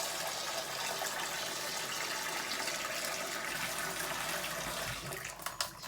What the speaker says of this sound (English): So you fill it up to the top with water and let it soak.